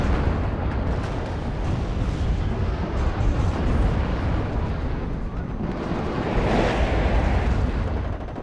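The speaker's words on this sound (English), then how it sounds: "And that's also the Nona artillery systems coming in here with the 120 millimeter." Nona 120 mm artillery fire and exploding shells in the game Warno, a dense continuous roar of booms and blasts rolling on without pause, loud and close.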